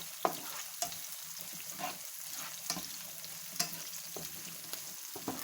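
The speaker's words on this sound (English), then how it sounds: "So this is our onions now with the garlic." Onions and garlic frying in a pan, a continuous soft crackling sizzle with intermittent spoon scrapes and light clicks, close but fairly quiet, with no talking.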